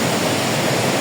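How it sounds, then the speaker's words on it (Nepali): A waterfall beside a river on the Shivajhatta hiking trail in Nepal roars as a loud, dense, unbroken rush of water, close and filling the scene. "झर्नाहरू छ नि त। हेर्नु न,"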